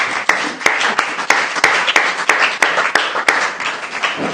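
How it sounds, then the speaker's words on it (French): Loud applause from a church congregation, dense clapping with sharp periodic accents, steady and close throughout. "Est-ce qu'on peut acclamer très fort pour le roi des rois?"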